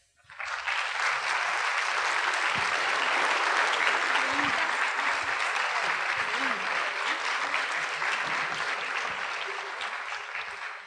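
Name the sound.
audience applause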